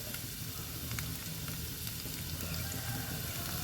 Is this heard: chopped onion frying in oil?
yes